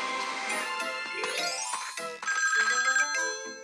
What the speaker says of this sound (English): Our phone is ringing.